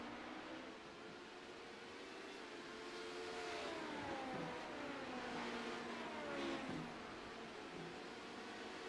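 Race cars lapping the track at a CORE Premier Series event, the Carolina Cruise, with a lapped car among the leaders near turn 8. Continuous engine roar with pitch sweeping up and down as cars pass, steady and moderately distant.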